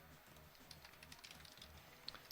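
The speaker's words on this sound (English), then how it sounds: "I don't know why I keep typing this out." Quiet, rapid keystrokes on a computer keyboard during a competitive Pokémon battle, a light, uneven patter of clicks that lasts a couple of seconds.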